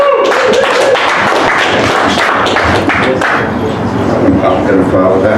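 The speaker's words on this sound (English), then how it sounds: "clap your hands for one Kevin McCarthy right now" A comedy club audience claps for a stand-up comedian, a loud, dense patter of many hands that carries on steadily throughout.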